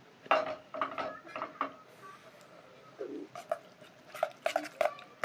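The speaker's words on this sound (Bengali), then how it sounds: "দেবার আগে ভালো করে নেড়ে নিন চামচ দিয়ে" A spoon scrapes and clinks against a bowl while stirring a batter of fish roe for fritters, in bursts of close, light clicks with pauses between.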